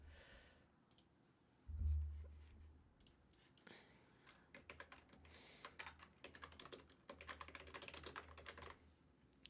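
Someone types on a computer keyboard during a live stream, producing quiet, rapid clusters of key clicks that come in bursts with short pauses between them.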